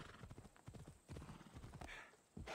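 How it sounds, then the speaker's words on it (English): Horse hooves clip-clopping in the Assassin's Creed Odyssey video game, a quick steady run of sharp close hoof strikes with a brief pause midway, alongside faint snorting. "That's a beautiful horse."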